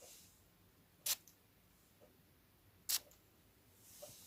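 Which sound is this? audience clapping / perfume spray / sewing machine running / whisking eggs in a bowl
perfume spray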